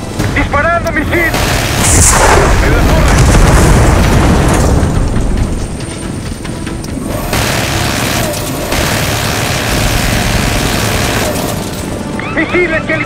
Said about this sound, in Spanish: ¡Disparando, misil!